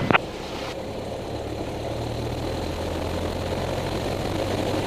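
A small aircraft engine holds a steady run-up at 1800 rpm throttle, a loud, even propeller drone that continues alone after a brief click at the start.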